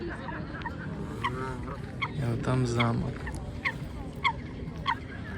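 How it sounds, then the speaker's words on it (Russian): Geese honk at a pond by Nymphenburg Palace, a few nasal calls rising among outdoor background noise while a person speaks nearby. "Красивые даже гуси или кто это вообще"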